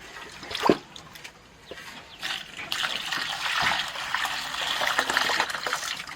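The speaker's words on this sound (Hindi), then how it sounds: "और इसका पानी हम इसमें डालते रहेंगे।" Water poured into a pot over wheat grains being washed by hand, a close trickling and splashing that swells into a steady broadband pour, with brief clinks and no talking.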